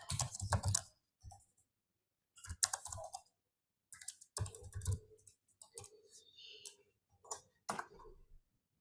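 Small computer keyboard being typed on in bursts of close, crisp key clicks, separated by short pauses, during a meeting.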